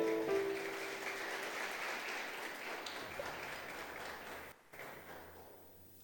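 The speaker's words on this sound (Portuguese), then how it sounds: "Aplauda o Senhor, se coloque de pé." A church congregation applauds during a sermon, a dense steady wash of clapping that fills the space, holding fairly even before thinning toward the end after a brief dip.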